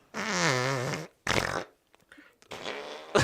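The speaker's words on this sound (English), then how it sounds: "Just fart noises." A fart bag lets out a long wobbling raspberry, followed by a shorter burst and a sputtering third one, loud and close with brief gaps between them.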